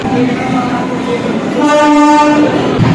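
A passing Coromandel Express train (12824 Chennai–Shalimar) rumbles close by leaving Khirai, India, as its horn sounds, a harmonic blare rising in the middle and holding for about a second before fading.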